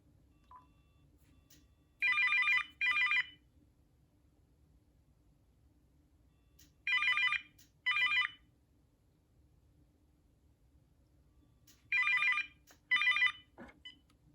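A Uniden EXS2010 cordless phone rings during a test call in three paired bursts of electronic trilling, evenly spaced about five seconds apart, loud and clear over a faint background hiss.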